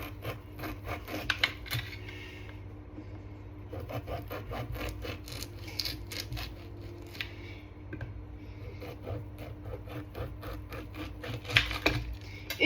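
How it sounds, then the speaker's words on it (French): A tiny kitchen knife cutting food into small pieces, heard as repeated soft scraping, rubbing strokes on a board, close and fairly quiet, with no talking. "Donc vous allez couper des petits bouts avec un micro couteau"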